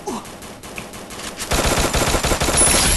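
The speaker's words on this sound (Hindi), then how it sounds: "शॉर्ट गन है मेरे पास, शॉर्ट गन तो बढ़िया चला लेता हूँ भाई मैं" Gunfire from a shotgun in the mobile battle-royale game Free Fire: quiet scattered pops at first, then a dense, loud run of rapid shots and bursts filling the last half, with no talking.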